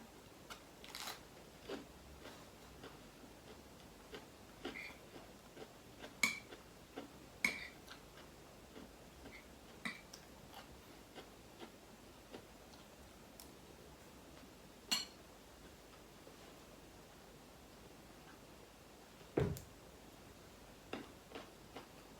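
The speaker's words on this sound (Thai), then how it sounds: "มันกรอบแล้วเพื่อนๆที่เคี้ยวดัง ๆ เนี่ย" Crunchy bites of crispy fried canned-fish chili paste, a dry crackle with scattered sharp crunches at irregular intervals, close but fairly quiet, with no talking.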